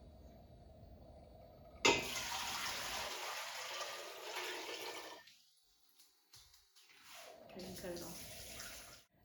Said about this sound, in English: I'm going to add my 6 quarts of water to this